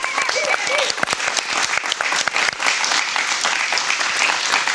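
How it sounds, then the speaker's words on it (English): A round of applause for a crew rises loud and close, dense clapping running steadily for several seconds with voices mixed in beneath it. "Can we already get a round of applause for them?"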